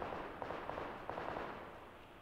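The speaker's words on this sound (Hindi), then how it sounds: "गोली चल रही है अभी भी" Gunfire from the mobile battle-royale game PUBG Lite, a rapid run of sharp crackling shots through the first second and a half, then a steady noisy wash that fades slightly toward the end.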